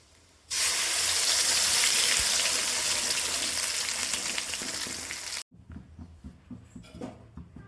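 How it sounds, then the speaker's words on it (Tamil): Ground spice paste hits hot oil for a Paarai fish curry, bursting into a loud, dense sizzle that holds steady for about five seconds, then cuts off and gives way to quieter, uneven bubbling with light clatter. "இப்போ நம்ம அரைச்சி வச்ச பேஸ்ட் ஊற்றிக்கலாம்."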